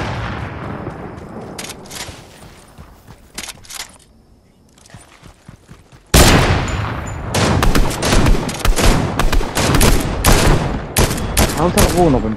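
Gunfire in a Fortnite no-builds match, sparse distant shots at first, then loud rapid volleys of close firing that continue steadily, with a voice talking briefly.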